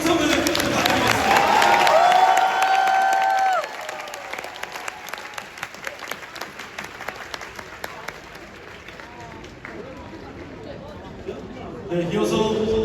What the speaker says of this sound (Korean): 축하의 박수와 함성을 부탁드리겠습니다.